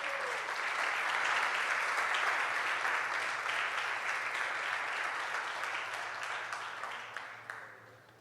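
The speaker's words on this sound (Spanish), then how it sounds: "Dale un aplauso al Señor." Church congregation applauding during a Spanish-language sermon, a sustained wash of many hands clapping that slowly fades, moderately loud throughout.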